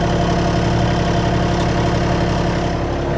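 Kubota B2650 compact tractor diesel engine idling in neutral, a steady loud rumble with constant low throb and no variation throughout.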